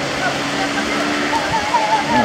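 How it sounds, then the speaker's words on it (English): A boat engine runs steadily at sea off Sanur beach, Bali, during a cremation ceremony where ashes are carried out to the water. It makes a continuous broadband drone mixed with water noise, with faint voices underneath. "Engine running."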